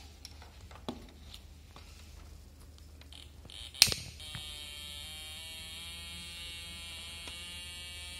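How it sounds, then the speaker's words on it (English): After a sharp click, a school's fire alarm buzzer, triggered by a sensor, starts and keeps sounding, a harsh continuous tone that holds at an even level until the end. "As we fire a sensor, then the buzzer starts ringing."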